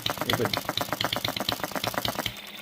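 A small OKMO B02 engine runs close by with a fast, even, rattling chug of rapid regular pulses, loud and steady for the whole stretch.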